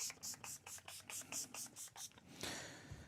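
Cleaner sprayed onto an Egnater Tweaker 15 guitar amplifier: about a dozen quick, close hissing spritzes in steady rhythm, then a longer continuous spray burst near the end.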